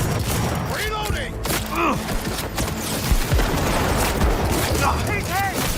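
Dense gunfire in Cyberpunk 2077 crackles continuously through a chaotic firefight, with booms and thuds mixed in and shouting voices over the top.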